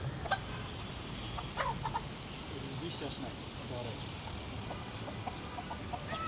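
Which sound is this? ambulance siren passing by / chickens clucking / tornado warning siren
chickens clucking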